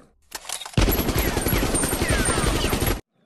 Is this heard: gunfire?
yes